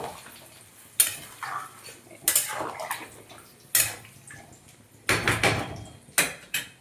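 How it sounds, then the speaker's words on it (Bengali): Vegetable curry stirred in a pot after water is added, with a utensil scraping and clinking against the pot in several separate bursts, each followed by softer wet sloshing; close and fairly loud, no voices. "একটু নাড়াচাড়া করবো"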